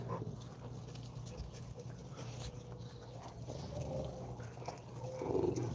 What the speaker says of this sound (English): Oh yeah, Fela speaks, boy